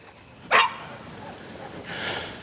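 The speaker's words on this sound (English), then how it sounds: "you can hear her give a little yelp" A dog on a leash during loose-leash walking training gives one short, sharp yelp, followed by a fainter whimpering whine; close by with little other sound.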